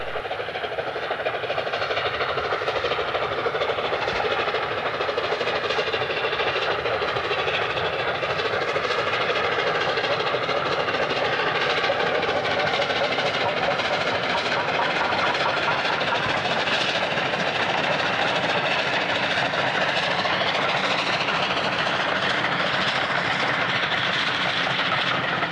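Steady rumbling train noise from the Duke of Gloucester steam locomotive heading northbound on the East Lancashire Railway, a continuous broad roar with faint rhythmic clatter throughout, fairly loud and with no voices.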